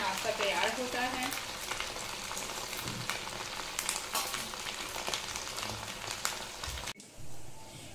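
Suji rolls frying in hot oil, a dense continuous sizzle and crackle heard up close, with faint clinks of a utensil, ending abruptly near the end.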